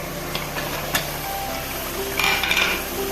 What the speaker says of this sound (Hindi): अब अच्छे तरीके से इसको भूनेंगे हम।